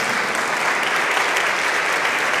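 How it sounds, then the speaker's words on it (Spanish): Dense, steady clapping from a church congregation, loud and sustained for the whole stretch with no voices over it. "Démosle un aplauso."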